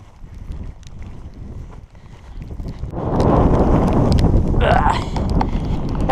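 Steady gusty wind buffets the microphone on the top of Withypool Hill, Exmoor, 398 metres above sea level, in rainy weather, growing louder and rougher halfway through, with low rumbling noise and no clear voices.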